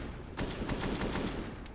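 A rapid burst of gunfire from XANTARES in a CS:GO match on Vertigo, several quick shots packed into under two seconds, fairly faint and unaccompanied by voices.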